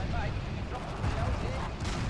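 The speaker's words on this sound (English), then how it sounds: "your smoke is powerless against our artillery explosion" Artillery explosions and gunfire in the Forgotten Hope 2 battlefield game, a dense rumbling barrage with booming low thuds and crackling shots layered over each other continuously.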